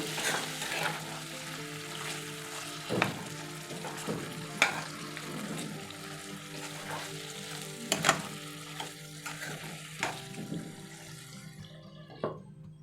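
Chicken with potatoes cooking in a covered pan, sizzling and frying steadily up close, with occasional stirring clanks and scrapes breaking through the continuous hiss.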